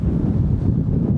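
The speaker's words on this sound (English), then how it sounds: "Quite windy" Strong evening wind under dark clouds buffets a DJI Osmo Action 4 action camera's microphone, producing a loud, continuous low roar and rumble for a brief moment.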